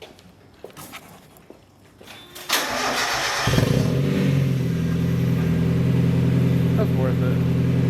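A Mazda Miata fitted with a big exhaust cranks over and fires, then settles into a loud, steady rumbling idle with light revs; a few people talk briefly beforehand.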